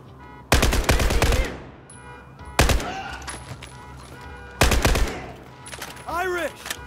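Bursts of automatic gunfire in Battlefield 4 during a Baku campaign firefight, three loud volleys separated by short pauses, with distant battle noise and a voice calling out between them.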